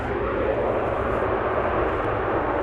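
A Korean Air Cargo Boeing 747 comes in to land at DFW Airport, a steady broad jet-engine roar holding at constant loudness throughout, with no voices.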